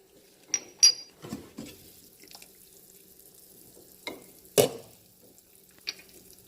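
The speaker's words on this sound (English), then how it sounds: "I'm going to give this a little stir" A utensil stirs Korean rice cake soup stock in a pot, giving a few sparse, quiet clinks and scrapes against the pot with near silence between them.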